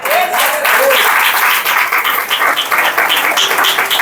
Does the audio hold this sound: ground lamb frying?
no